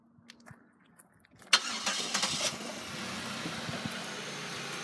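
A 2005 Chevy Impala cranks with a few soft clicks, catches abruptly and settles into a steady, even idle, close and moderately loud.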